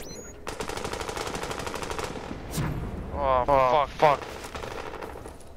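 Rapid gunfire from a player shooting in The Division during a Dark Zone manhunt, a long sustained burst of automatic fire followed by shorter bursts, with someone shouting over it.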